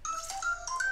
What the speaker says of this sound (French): Ah, c'est mon téléphone, si jamais.